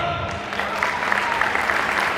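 An audience claps at Poetica Live, a live poetry event held by a Rotaract club in Navi Mumbai. The applause is steady and fairly loud with a crowd murmur underneath, and a voice can be heard faintly.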